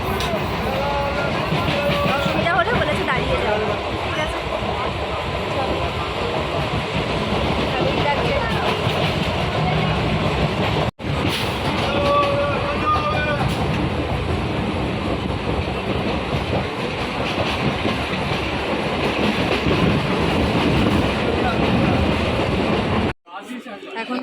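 Inside a moving passenger train near Tollygunge, the carriage gives a continuous rumbling roar with rattling and rhythmic track clatter, loud and steady for the whole stretch, with people talking in the background.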